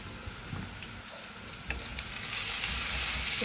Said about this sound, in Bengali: পেঁয়াজটা আমি আরেকটু লাল করে ভেজে নেব।